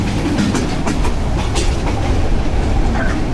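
Steady clickety-clack of the Mohonganj Express 789 passenger train rolling on rails out of Dhaka near Cantonment station, a continuous loud rumble with rhythmic wheel beats heard from inside the moving carriage.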